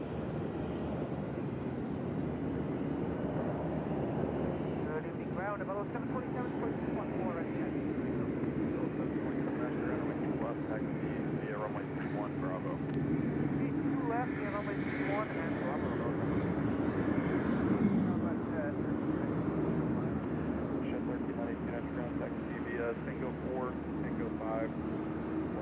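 A Sunwing airliner from Canada at Nashville airport gives a steady, distant jet engine roar that swells slightly midway, with people talking over it throughout.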